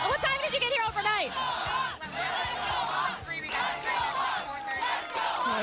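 A dense crowd of Chicago Blackhawks hockey fans yells and cheers at the 2013 Stanley Cup parade and rally, loud and continuous, with shouts and chatter layered close by.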